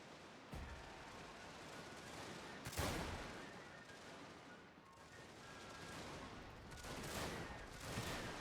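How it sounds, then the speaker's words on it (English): Musket volleys in the Total War: Shogun 2 video game, distant crackling rifle fire with bursts rising and falling over a continuous battle din. "this fire being laid down over here is just going to be brutal as his units start breaking"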